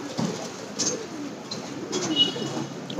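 Tournament pigeons coo softly in low, murmuring bursts close by, with faint chirps and light background noise.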